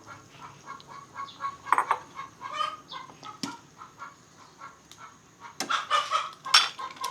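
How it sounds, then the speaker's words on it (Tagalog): A hen clucks and cackles after laying an egg, a series of rhythmic squawking bursts that build louder toward the end, close by, with no talk over it. "Nangitlog na naman yung manok mga paps. Pumutak na naman."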